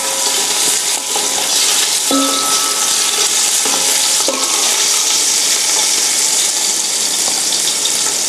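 Pork belly stir-frying in a hot pan, a loud continuous sizzle with scraping and tossing of the meat, close and busy throughout, with no voices.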